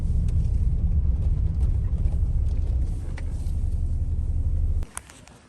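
A car engine rumbles steadily up close for several seconds, then cuts off abruptly, leaving quieter background noise.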